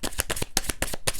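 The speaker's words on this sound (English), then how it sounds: "This deck, however, I have noticed likes lots of shuffling." Tarot cards being shuffled by hand, a quick run of crisp riffling bursts in rapid rhythm, close and clear with no talking.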